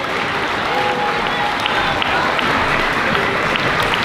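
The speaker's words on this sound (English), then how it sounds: "We have one last round of applause for Ms. Vandrish and Ms. Federico's class" An audience claps steadily for a fifth-grade class at a school moving-up ceremony, a continuous, fairly loud roll of many hands with a faint voice briefly audible underneath.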